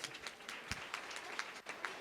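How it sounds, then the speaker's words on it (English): Quiet applause from an audience of parents and partners at a summer program gathering, a light, steady patter of claps with a few sharper hits, fairly distant and thin. "let's give yourself a round of applause right now"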